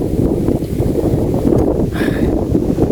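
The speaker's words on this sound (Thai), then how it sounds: "ลมแห้งดิพี่น้องเนาะ" Strong wind buffets a microphone outdoors, producing a loud, constant low rumble with gusting fluctuations throughout, with no other clear sounds above it.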